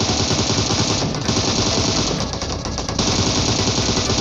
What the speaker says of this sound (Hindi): मैं ऐसे जानबूझ के एक रैंडम फायर देता हूँ ताकि वो दोबारा फायर ना करें